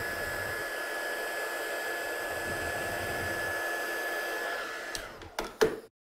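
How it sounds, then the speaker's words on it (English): A heat tool blows steadily to set ink on a stamped handmade card, a loud continuous whooshing roar that cuts off near the end, followed by a few handling knocks. "Then we're just gonna use that heat set and I'm not gonna move this."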